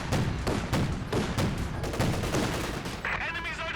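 Dense gunfire in Company of Heroes 2, a real-time strategy game, with rapid volleys of rifle and machine-gun shots overlapping in loud, continuous bursts, a brief whine near the end.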